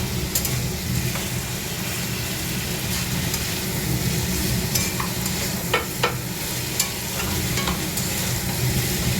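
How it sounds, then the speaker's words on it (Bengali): Tomato and eggplant frying in a pan, with steady loud sizzling throughout and occasional light clinks of stirring, no talking. "এবার একটু ভালো করে ভেজে নেবো"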